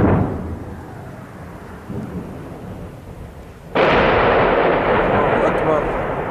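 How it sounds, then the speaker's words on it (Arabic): Heavy artillery shelling of Qal'at al-Husn near Homs, deep rumbling booms rolling across the town, the second much louder and closer, followed by a long roaring decay. "أكبر قصف عنيف جدا على مدينة قلعة الحصن"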